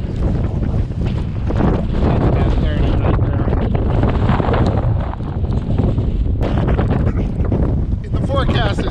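Strong wind of about 25 to 30 knots roars steadily around a sailboat on fairly calm water, with loud buffeting gusts filling the whole stretch and a voice talking faintly beneath.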